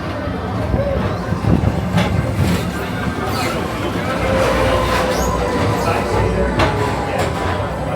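The Tomorrowland Transit Authority PeopleMover at Magic Kingdom rumbles steadily along its track with a constant low roll and faint clatter, a murmur of voices blending in.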